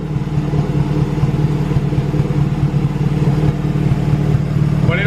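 A Honda Civic Si with a swapped B18C1 engine and Precision turbo idles steadily up close, with a loud, even pulsing rumble and faint clatter throughout.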